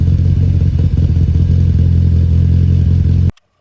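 A wide-body Evo 6 with a 2.3 litre HKS stroker engine idles in a steady, loud, deep rumble with a slightly uneven beat, close up, before cutting off abruptly.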